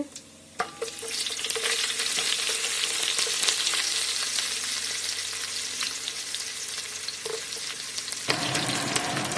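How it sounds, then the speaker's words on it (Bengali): Onions frying with whole cumin seeds for khichdi, a loud close crackling sizzle with scraping stirs, starting from a short quiet moment and continuing steadily without voices. "এখানে গোটা জিরে দিয়ে দিচ্ছি আপনারা খিচুড়িটা এরম করে দেখবেন খেয়ে টেস্ট হেভি হবে পেঁয়াজ দিয়ে দিচ্ছি"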